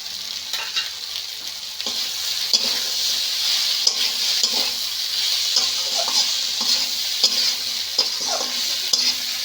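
Okra and prawns fry in spice paste in a pan with a bright, steady sizzle, as repeated scraping strokes from stirring pass through at an even pace close up.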